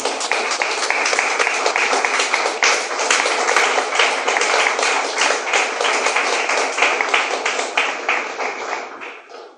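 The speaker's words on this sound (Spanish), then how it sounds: "Bríndale un fuerte aplauso al Señor" A church congregation gives sustained, loud applause to the Lord, a dense wash of many hands clapping that holds steady for several seconds and then tapers off at the end.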